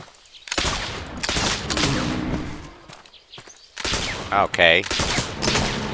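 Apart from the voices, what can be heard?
gunshots hunting in video game Oregon Trail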